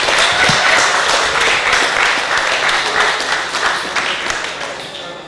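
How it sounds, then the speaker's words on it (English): An audience at a town hall meeting applauds in a loud, dense patter of many hands that holds steady and tapers slightly near the end. "I think it's appropriate to give another round of applause"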